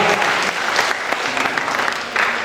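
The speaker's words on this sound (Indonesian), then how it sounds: "Beri tepuk tangan dulu." A church congregation at a Christmas harvest service claps together in a dense, steady burst of applause, loud and filling the room throughout.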